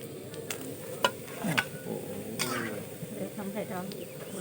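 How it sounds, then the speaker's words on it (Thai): Red-tailed tinfoil barb fish frying in a pan: a soft, steady sizzle with occasional crackles and spatula taps, heard faintly beneath someone talking. "กับทอดปลาตะเพียนหางแดง หรือปลาแหทองนะครับ"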